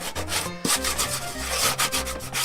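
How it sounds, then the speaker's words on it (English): Light, steady sanding strokes on wooden edges before painting, a continuous close rubbing hiss in a worn-out abandoned house, with low musical tones playing underneath. "I'm just going to kind of sand all the edges just a little bit."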